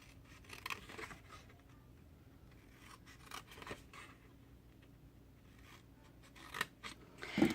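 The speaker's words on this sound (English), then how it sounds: "These bottom squares, we're going to cut up to that first score line." Scissors cut paper along the bottom squares of a box up to the first score line, making quiet, close snips and rustles in irregular bursts, with the paper handled more loudly at the end.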